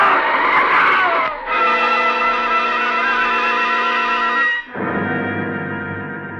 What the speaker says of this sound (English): There's a helpless skidding sensation as the car lurches across the wet pavement, and then a sickening thud.